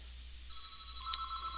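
Phone rings in a quiet room over a low steady hum, a thin repeating electronic tone with brief bright chirps, fairly faint and with no voices.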